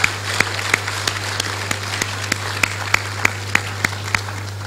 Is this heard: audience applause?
yes